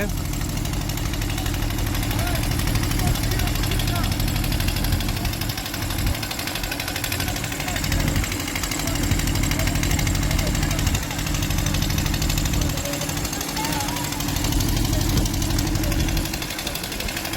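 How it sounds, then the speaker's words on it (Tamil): A water-pump engine drains rainwater from a flooded fishing boat after heavy rain in Thoothukudi, a steady, loud mechanical chugging drone that runs unbroken while someone talks over it. "இந்த வள்ளத்தில் வந்து தண்ணி அதிகமாகிட்டு இன்ஜினை வச்சு அடித்து ஏற்றிக்கிட்டு இருக்காங்க"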